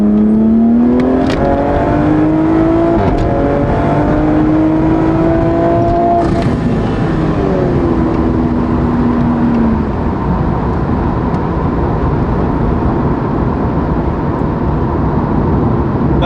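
Toyota Supra with a B58 engine pulling hard through third and fourth gear, a loud continuous in-cabin drone whose pitch climbs, drops at the shift, then climbs again under heavy road noise.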